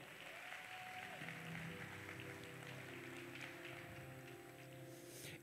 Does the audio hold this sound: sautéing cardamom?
no